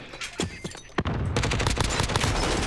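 Gunfire in Modern Warfare: a few separate shots, then a sustained rapid burst of automatic fire, loud and close, with no talking.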